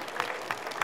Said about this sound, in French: Et un tonnerre d'applaudissements pour les bénévoles, s'il vous plaît.